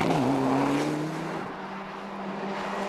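A Subaru Group N rally car drives a stage of the Manx International Rally, its engine note steady and close with a strong tonal drone that drops slightly in pitch partway through, broad road and wind noise beneath.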